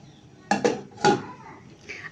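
A lid set down on a tea pot of Hyderabadi dum chai, giving a few sharp metallic clanks close by, then quiet.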